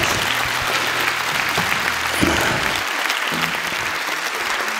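A concert audience bursts into loud, continuous applause throughout, with a low, steady musical hum sustained beneath the dense clapping.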